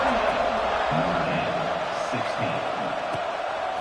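A stadium crowd in a football video game roars steadily as a Stanford versus Notre Dame kickoff nears, a dense, constant wash of cheering heard under a commentator's voice.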